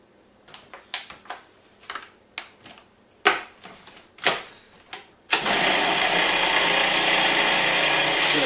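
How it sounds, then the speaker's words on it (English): A food processor starts up and runs steadily, blending pitted dates for a raw vegan pumpkin pie, after a series of sharp clicks and knocks; the loud motor whir then continues without pause, close by. "Hopefully this isn't too much overloading the machine"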